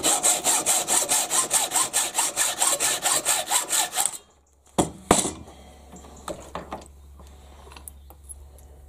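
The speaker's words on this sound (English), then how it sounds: "I'll just pop it in my very noisy vise and with my hacksaw cut it halfway." Hacksaw cutting threaded rod clamped in a noisy vise, steady rapid back-and-forth rasping strokes for about four seconds, then stopping, followed by a few clanks and knocks of the metal being handled.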